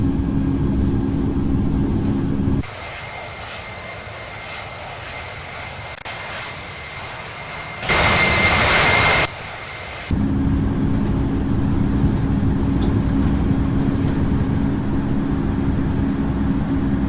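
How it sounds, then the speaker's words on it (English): Jet airliner taking off from Sydney runway 16 right in a flight simulator: a loud, steady engine roar that drops quieter midway, swells in a short burst, then returns to full strength, with no talking. "Mike Foxtrot 830 Heavy is taking off runway 16 right, departing south"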